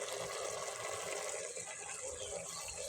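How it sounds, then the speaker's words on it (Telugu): Soaked tamarind extract pours into a pot of cooking potato stew as a faint, continuous watery gush, steady and unbroken. "మనం చింతపండు పులుసు తీసి పో తీసి పోసుకుందాం"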